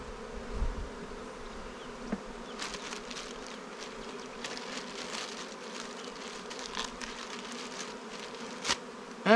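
Bees buzz around newly installed hives outdoors, a continuous hum with individual insects zipping close past the microphone now and then over a quiet background.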